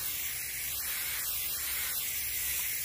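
A spray gun paints Pontiac Grand Prix window panels, giving a steady, continuous close-up hiss of atomized paint that holds even throughout with no pauses.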